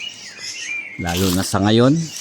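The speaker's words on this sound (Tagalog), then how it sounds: "maririnig mo lang dito ang mga huni ng ibon" Many birds chirping faintly in the background around a tree, with a person speaking briefly over the outdoor ambience.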